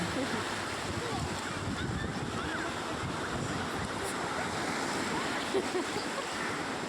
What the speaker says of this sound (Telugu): బీచ్ చూడండి చక్కగా అలలు భలే వస్తున్నాయండి